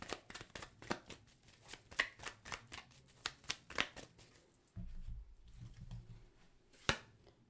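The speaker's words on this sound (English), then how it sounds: "let's pull some clarifying cards for the Eight of Earth" Tarot cards being shuffled and pulled for a weekly reading, a run of quick papery riffles and flicks, then a brief low rustle and a final sharp card snap, close and fairly quiet with no talk.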